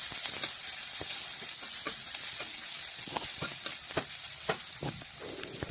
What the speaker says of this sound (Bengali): পেঁয়াজ এখন নাড়াচাড়া করে একটু ভেজে নিচ্ছি